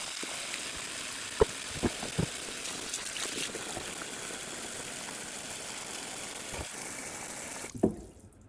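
Water runs from a tap into a pot for turkey stock, a soft steady rush with a few clunks of the pot, fairly faint and alone, ending in a louder knock.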